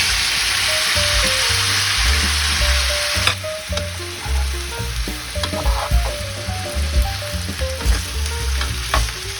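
Steady loud sizzling of carrots, tomatoes and peppers frying in hot sunflower oil, with occasional clinks and stirring scrapes over the continuous crackle.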